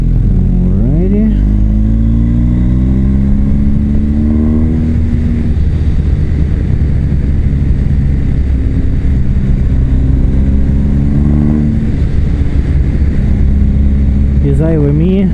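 A car engine pulls uphill in third gear at around 2,200 meters on a mountain road, a loud, steady drone whose pitch rises and falls with the revs, heard alongside talk.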